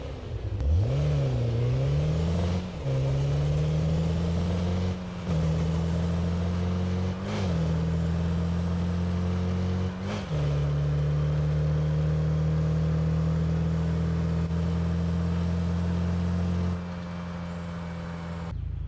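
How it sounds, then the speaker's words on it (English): Mitsubishi Lancer Evolution 10th generation engine in Car Parking Multiplayer, revving up loudly at the start, then holding a steady droning hum with brief dips and surges every few seconds before cutting off near the end; no voices. "Mitsubishi Evolution 10th Generation."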